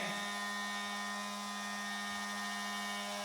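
Electric rotary nail grinder filing a dog's nails during grooming, giving a steady close high-pitched whine with a constant tonal hum throughout, no talk.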